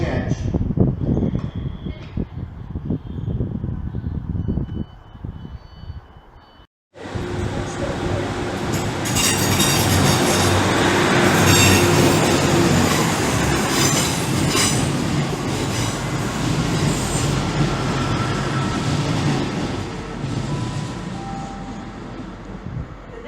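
Trains at Stockport railway station rumble loudly along the platform, wheels clattering and squealing over a steady roar, after a quieter stretch of station ambience with an abrupt cut partway through.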